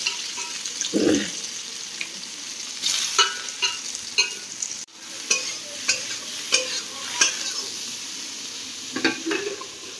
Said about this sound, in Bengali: কারণ আমি সোয়াবিনগুলোকে ভেজে নেবো আগে